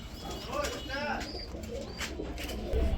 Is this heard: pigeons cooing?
yes